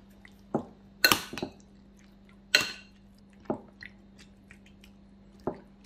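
Squishy, wet mixing of a marinade of soy or Maggi sauce, salt, garlic and sesame oil, with about six separate slaps and squelches spaced irregularly, close and alone.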